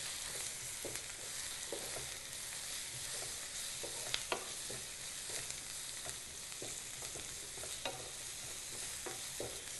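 Mutton curry with chilli powder being stirred in a pan, a steady soft sizzle of frying with scattered scraping clicks from the spoon against the metal, continuous for about ten seconds.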